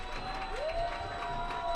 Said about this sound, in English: cheering for this team